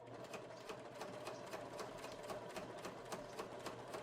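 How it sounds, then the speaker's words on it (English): A sewing machine runs steadily, stitching the seam of a shell coat, a continuous mechanical whir with a fast, even needle rhythm, close and alone with no talk. "And then I'm just going to sew away the lower one here."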